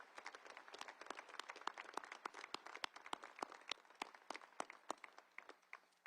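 An audience of cadets' families and guests claps through a commencement ceremony at a service academy, steady applause with sharp individual claps standing out, moderately distant and continuous with no voices over it.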